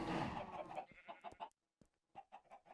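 Chickens in a modded Minecraft game cluck in a quick, bright, broken burst, loud at first and then a string of short separate clucks after a brief pause.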